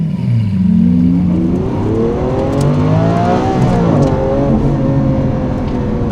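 A Lamborghini Aventador SV on the road revs hard, its engine note climbing through several loud, close sweeps that rise and settle in a continuous roar.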